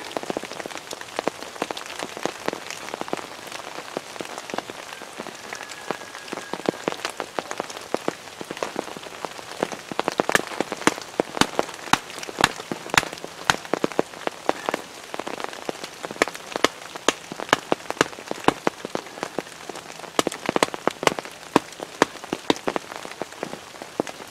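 Steady rain pours on a wooded campsite, a dense close hiss of drops broken by sharp, scattered splats and drips, with no one speaking.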